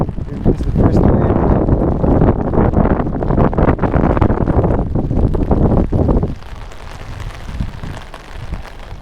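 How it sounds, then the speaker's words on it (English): Strong gusts of wind arriving with Tropical Storm Hilary on a Skid Row street, roaring and buffeting the microphone loudly, then easing off into a softer, hissing blow. "Here comes the first wind."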